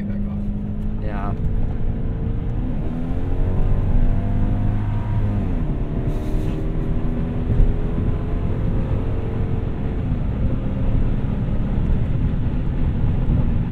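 A 1998 Lexus GS400 cruises along a road, its steady engine drone rising and shifting through gears beneath continuous road and cabin noise, with occasional voices talking inside.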